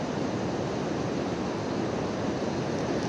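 A mountain stream swollen after several days of rain near Kotabagh, Nainital rushes past in a steady, dense roar of water, unbroken and without voices.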